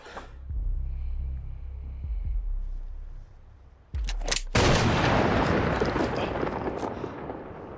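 A gunshot from a crime drama television scene, a single sharp loud blast cutting through quiet background music and tension, followed by a lingering high ringing tone.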